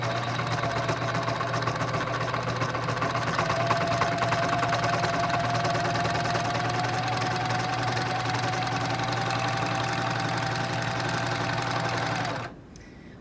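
A serger sewing machine stitches and trims fabric with its blade, giving a continuous fast, even mechanical hum and rattle at close range that stops abruptly near the end, with no talking.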